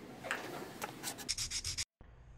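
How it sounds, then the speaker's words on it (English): Sandpaper scrubs a small wooden fishing lure carved from a stick, close and faint, in a series of short rasping strokes that come quicker near the end, then a brief cut to quiet. "We'll do the sanding right now."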